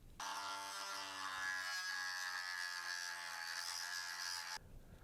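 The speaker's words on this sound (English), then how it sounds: "So I'm going to grind those away." High-pitched buzzing whine of a small rotary grinding tool cutting away plastic studs and a screw inside a Bachmann 2-4-2T G-scale model locomotive, one continuous run of about four seconds that stops abruptly.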